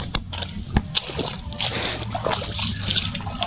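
Water gushing and splashing from a damaged, leaking garden hose outdoors, a steady close-up splatter and slosh with brief louder bursts throughout.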